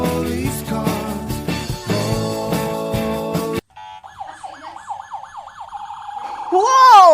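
Toy police car siren giving a loud electronic wail that rises and falls repeatedly, close by, after a burst of busy music cuts off.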